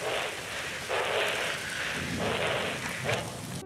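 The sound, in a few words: rain falling, from a film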